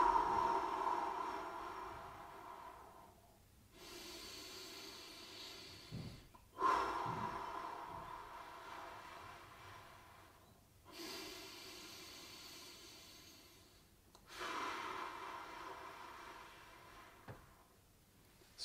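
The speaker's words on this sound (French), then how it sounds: "Bien aspirer le plus profondément possible et souffler en vidant tout l'air qu'on a à chaque fois" Deep, slow breaths in and out during a seated gentle stretching exercise, with three long exhalation hisses and quieter inhalations between them, close and fairly soft, with no talking.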